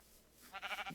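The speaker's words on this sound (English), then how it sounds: "The sheep still sounds the same." A Minecraft sheep gives a short, faint bleat, a few quick wavering pulses near the end of an otherwise quiet moment.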